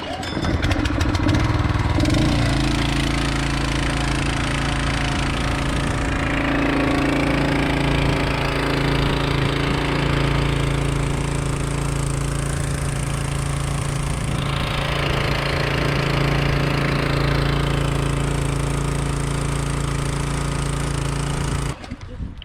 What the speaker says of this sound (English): Valve on. On switch on. Choke on. A little bit gas, pull.